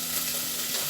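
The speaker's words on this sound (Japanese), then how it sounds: "牛肉を鍋底に入れて" Beef frying in a preheated, oiled waterless pot, giving a steady close sizzle that stays even for just under a second.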